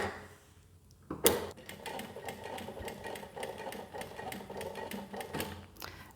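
An industrial walking foot sewing machine, model 1903SX, stitches through four layers of upholstery fabric, starting with a sharp clunk and then running in a steady rapid mechanical chatter, close and alone.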